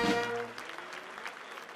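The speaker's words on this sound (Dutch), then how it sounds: "Een ongelooflijk groot applaus voor al die mensen die het mogelijk hebben gemaakt." An audience applauds the crew behind a carnival event, the clapping starting as a voice trails off and then continuing as a moderate, diffuse patter.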